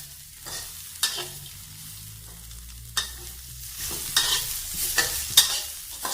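Spices such as star anise and cinnamon stir-fried in a pan for kuay jap broth, sparse scraping strokes of a spatula at irregular intervals over a faint sizzle, growing busier toward the end.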